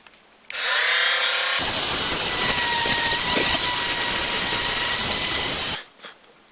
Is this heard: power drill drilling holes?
yes